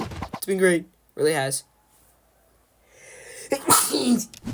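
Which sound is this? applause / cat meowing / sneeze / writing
sneeze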